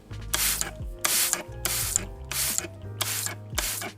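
e.l.f. Power Grip setting spray mists onto a face in six short, bright hissing bursts, each with a faint pump click, spaced evenly and close to the mic.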